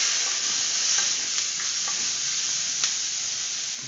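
Capsicum and corn stir-fried in a hot pan, giving a steady, loud sizzle and hiss close up, with a few faint scrapes of stirring and no voices.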